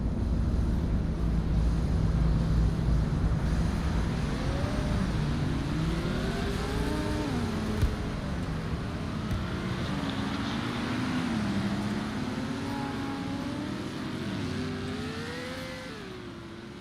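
GT3 race cars rolling through a formation lap at the Korean GP in a racing game, a steady engine drone with rising and falling revs that swell and fade as the cars cruise in formation, no talk.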